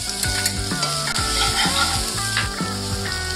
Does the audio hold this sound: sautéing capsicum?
yes